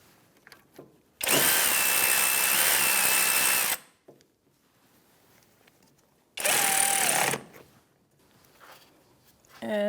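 A power tool with a 10 mm socket snugs a bracket bolt during rear CV axle work on a 2013-2018 Toyota RAV4 2.5L, giving two loud whirring bursts, the first longer than the second, with quiet pauses around them.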